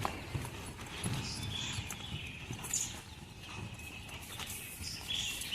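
Hooves of a nine-year-old Thoroughbred mare, about 65 inches tall, thud softly as she is ridden in a tight circle inside an enclosure, a steady low clip-clop at moderate distance, without talk.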